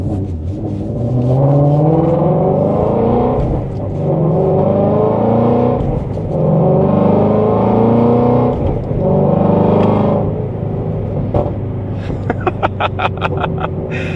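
The flat-plane-crank V8 engine of a 2017 Ford Mustang GT350 revs up and down in repeated surges, loud and close, with a rough rumbling tone and a few clicks near the end.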